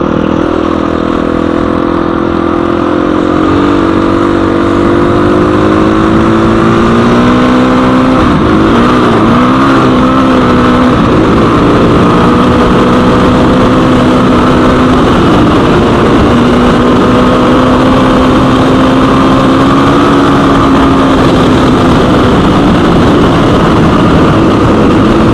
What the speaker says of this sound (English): Rear tire just spinning up that hill.